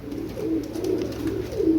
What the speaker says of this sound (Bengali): অসাধারণ কবুতর, কোবরা টেডি মাস্টার পেয়ার।